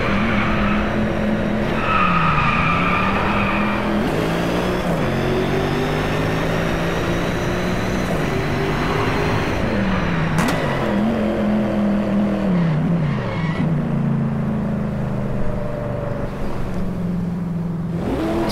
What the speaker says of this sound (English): This car's also very good for drifting, as its light frame doesn't really hold it back, so it just drifts on its own.